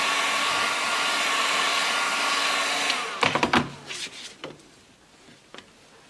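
A heat gun blows hot air onto a plastic sheet being bent, a steady loud whooshing drone that cuts off after about three seconds, followed by close knocks and clatter as the plastic is handled.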